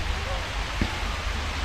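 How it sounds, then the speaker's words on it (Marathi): Heavy monsoon rain pours steadily during the Dudhsagar trek, a dense, even hiss close around the listener that never lets up, with faint murmurs of voices now and then. "काय बेकार पाऊस आहे इथं."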